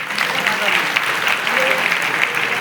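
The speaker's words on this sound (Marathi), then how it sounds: "त्यासाठी सर्वांनी लक्षाने टाळ्या वाजवायच्या" An audience applauds in front of a stage at a Phule–Ambedkar jayanti festival in Nashik, with dense, even clapping from a large crowd that continues steadily without pause.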